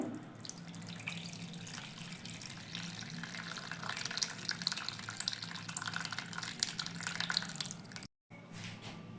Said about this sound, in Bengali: এর উপর দুধ ঢেলে দেবো